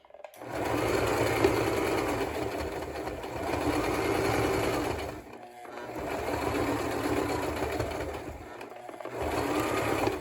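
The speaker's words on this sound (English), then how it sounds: "I'm gonna sew for a second." A sewing machine stitches fabric for a festive banner in loud, close, steady runs of whirring, stopping briefly twice between bursts, with no talking.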